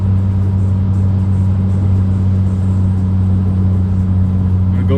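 A Mini Cooper R56 engine and exhaust hold a steady, loud, droning hum while cruising downhill in 5th gear at about 60 mph under light throttle, with no talk over it.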